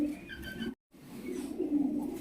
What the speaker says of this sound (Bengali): প্রিয় বন্ধুরা দেখতে পাচ্ছেন মাশাআল্লাহ খুবই সুন্দর কিন্তু আর্সেঞ্জেল কবুতর দেখানোর চেষ্টা করছি